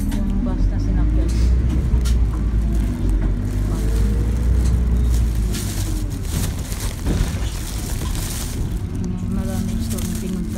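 A constant low engine rumble and road vibration fill the inside of a moving bus, with people talking over the noise throughout.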